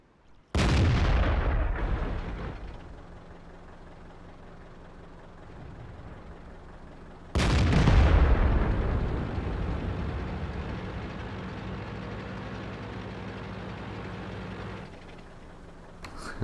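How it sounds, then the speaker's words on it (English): Tank cannon fire in a video game: two heavy, booming shots several seconds apart, each followed by a long rumbling decay with engine drone underneath. "One shot by every tank in the game."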